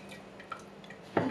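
Water dripping off drained pork skin being tossed to dry while making Vietnamese fermented pork, a few faint drips close by, then a louder wet splash at the end.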